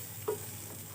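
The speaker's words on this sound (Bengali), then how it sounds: "চাল আর ডালটাকে ভালো ভাজা ভাজা করে নেব ভালোভাবে" Rice and mung and masoor lentils frying in a pot for khichuri: a soft, steady low sizzle with one brief scrape of stirring near the start, quiet and close.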